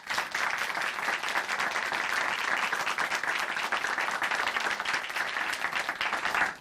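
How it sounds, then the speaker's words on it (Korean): A church congregation applauds a testimony speaker on a Korean Christian broadcast: a full, sustained wash of clapping from many hands, even and continuous until it fades at the end. "오늘 귀한 간증 전해주신 조진현 형제님께 다시 한번 큰 박수 보내드릴게요"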